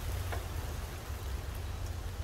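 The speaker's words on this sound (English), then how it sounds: "here comes the rain." Steady rain falls outdoors at a home where grass was being cut, a soft, even wash of noise throughout, faint and unbroken, with no voices.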